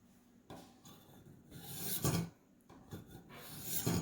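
A Ka-Bar knife is drawn across a Warthog knife sharpener in slow, rasping strokes. About four quiet, evenly spaced scrapes come through close up, with pauses between them.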